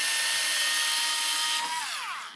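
A power drill spinning out Phillips screws from a Navee S65 electric scooter, a loud steady high whine that winds down in pitch near the end as the motor slows.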